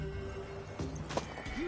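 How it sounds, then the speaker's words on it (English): A horse in The Witcher 3 video game gives a short whinny with a few hoof clops, heard over a steady game ambience. "Worthy of the best horse. The mare is yours."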